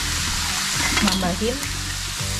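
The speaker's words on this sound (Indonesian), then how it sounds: "Nah, ini kita tumis sebentar gini ya, terus langsung kita campur aja sama yang lain." Garlic sautéing in hot frying oil while making beef patties for burgers gives a loud, steady, close sizzle that runs throughout, with a person speaking briefly over it.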